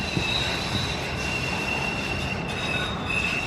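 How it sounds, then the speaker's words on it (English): An LA Metro rail train passes close by at night, its wheels squealing in a sustained high metallic whine over a loud, steady rumble throughout. "There goes Metro."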